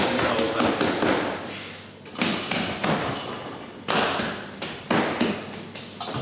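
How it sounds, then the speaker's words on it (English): Baguette dough is folded over on a floured work surface, making repeated soft thuds and taps in irregular bursts, fairly quiet and close, no talking. "Start folding it over."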